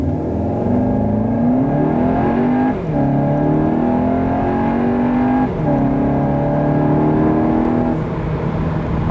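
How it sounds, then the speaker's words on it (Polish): A 2023 Skoda Karoq Sportline with a 2.0 TSI 190 hp engine accelerates hard from standstill to 100 km/h on dry pavement, its engine note rising steadily through two quick gear shifts, loud and close. "Gdy nawierzchnia jest sucha, tak samochód przyspieszał od 0 do setki."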